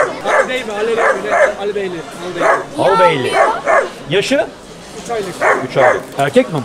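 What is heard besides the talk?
puppy barking at a bird market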